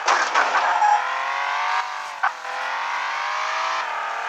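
Engine of the starter car in Car Simulator revving steadily with a brief tire skid as it drifts, loud and continuous with no talking.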